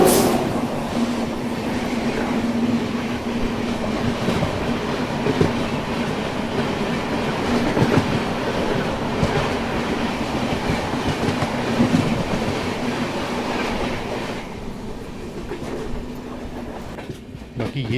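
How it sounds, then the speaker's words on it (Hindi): A diesel-hauled express train departs on an Indian Railways ghat section, its wagons rolling past close by with a steady rumble, rhythmic clickety-clack of wheels and a faint sustained hum, fading slightly toward the end. "अरे वाह, इस ट्रेन में भी डीजल लोकोमोटिव लगा है।"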